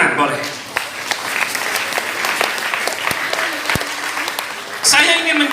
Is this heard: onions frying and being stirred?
no